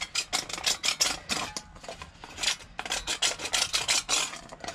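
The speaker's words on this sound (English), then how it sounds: "what I'm doing here is I'm scuffing the side of this up really good" Side of a basement drain pipe being scuffed to give hydraulic cement some grip, an irregular series of close, gritty rasping strokes with brief pauses between bursts.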